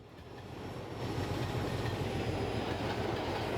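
Diesel trains in Transport Fever 2 rumble past with a dense, steady clatter of wheels on rails, swelling over the first second and then holding loud and continuous.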